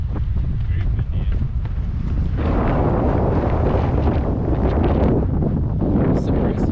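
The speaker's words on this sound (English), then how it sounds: "I don't know how the wind's going to pick up on this GoPro today" Strong wind buffets a GoPro microphone on a hilltop at the Andrew Johnson National Cemetery in Greeneville, Tennessee, a loud, continuous rumbling roar that swells midway and never lets up.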